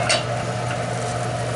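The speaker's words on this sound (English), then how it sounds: "I'm going to stir this with a wooden spoon so I get no reaction" A wooden spoon stirs a cream-based lemon beurre blanc reduction in a pan, producing a soft, continuous simmering and scraping texture with a faint tap at the start.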